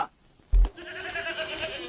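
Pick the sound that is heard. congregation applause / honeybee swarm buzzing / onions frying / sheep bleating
sheep bleating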